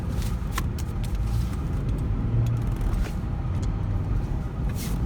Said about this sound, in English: we're gonna set off in the Bravada. See how it does in the snow a little bit.